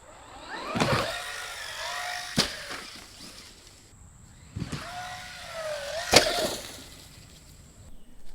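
A Traxxas Rustler 4x4 VXL RC truck whines as its motor revs up and down, with sharp clacks from hard landings after jumps and backflips, repeating in two bursts at a moderate distance.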